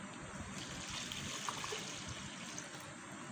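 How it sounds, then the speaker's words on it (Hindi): Water trickles and pours into a jug for a sattu drink, a soft, close, continuous stream with no talk. "पानी ऐड करते हैं इसके अंदर।"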